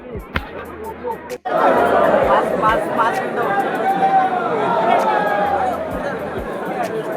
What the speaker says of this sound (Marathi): खतरनाक आहे ही गर्दी